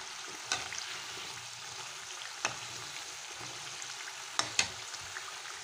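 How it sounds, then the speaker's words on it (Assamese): Nimki snacks frying in hot oil, a soft continuous sizzle with a few sharp clinks of a utensil against the pan, close but fairly quiet. "এতিয়া দৌৰাদৌৰিকৈ নিমকিকেইটা ভাজি লৈছোঁ ইয়াতে"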